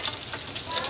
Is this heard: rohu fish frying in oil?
yes